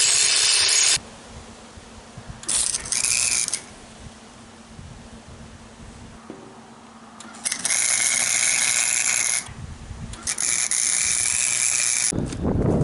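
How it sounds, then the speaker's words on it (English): An angle grinder works coated metal on a trailer down toward bare metal, loud whining bursts of grinding alternating with quieter pauses, heard close by. "we're going to be grinding down the metal towards bare metal on both of these"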